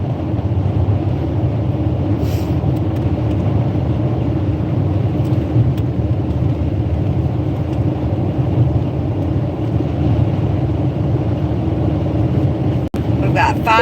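A car cruising along a highway on a road trip in fine weather, a steady low engine and road rumble filling the whole stretch without a break, with one brief sharp click near the end.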